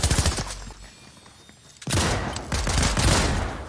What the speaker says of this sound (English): I'm getting shot from behind too